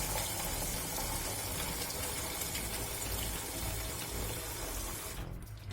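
Hot water pours steadily from a kitchen tap into a sink, a dense continuous hiss and splash that cuts off abruptly near the end, with no one speaking.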